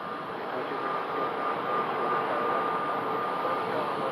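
An Embraer jet at Phoenix Sky Harbor Airport, heard as a constant jet engine roar with a thin high whine riding on it, steady and moderately loud without voices.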